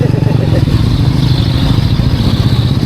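A loud motorcycle engine runs steadily close by in Malolos after Typhoon Carina, a continuous low rumble with faint rattling throughout.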